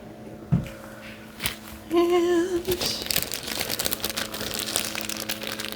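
Close crinkling and rustling of thin plastic, starting after a few knocks and a brief tone, then continuing in irregular crackly bursts.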